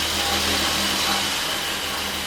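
A BMW E30 engine idles steadily while warming up, a loud, constant mechanical hum and whir with no revving, heard on its own throughout.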